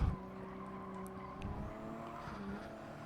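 A Toyota GR Supra RZ GT Cup race car in the GT Sport video game at Catalunya, skidding with a sustained tire squeal over a steady engine drone, close and moderately loud, no talking.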